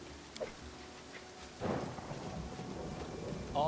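A rainy thunderstorm in the video game Pathfinder Kingmaker: continuous rain with a swelling roll of thunder midway that lingers as a rumbling wash, growing louder again at the close.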